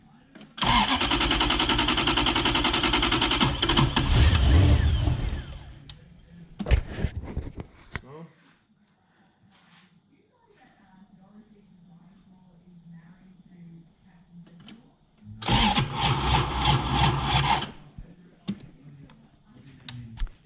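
A Toyota 1UZ-FE V8 fitted in a BMW E36 coupe cranks over in loud, rapid starter bursts, first a long grinding run, then a short stab, then another burst after a quiet pause with faint background sounds.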